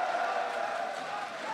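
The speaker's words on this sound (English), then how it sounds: "A big applause for Warlock and Moss and the French crowd, excited as always" A French crowd at a 2015 League of Legends World Championship group-stage match roars and applauds, a dense sustained wash of cheering at steady loudness.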